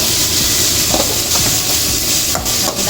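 Small shallots sizzle and hiss steadily in a hot pan while being sautéed, with a few soft scraping stirs cutting through the continuous frying sound at close range.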